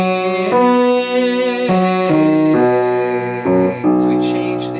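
Sung vocal warm-up in tenor range skipping a sixth from E up to A, a clear sustained voice stepping through a series of held pitches, loud and close with no accompanying talk.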